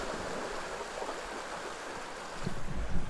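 Steady broadband rush of river water flowing, continuous and close, growing slightly louder with a few splashes near the end, no voices.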